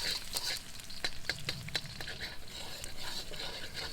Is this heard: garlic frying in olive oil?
yes